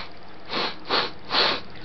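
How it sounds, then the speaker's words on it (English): Three separate nasal sniffs from a person with a runny nose, evenly spaced and close to the microphone, with no talk in between. "Sniff. I have a runny nose again."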